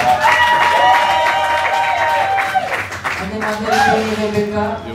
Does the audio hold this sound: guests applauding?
yes